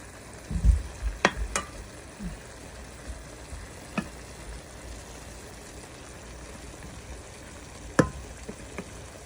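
Onions frying in a pan for pork steak, with the sauce already simmering: a faint, steady sizzle with a few sharp clinks near the start and again toward the end.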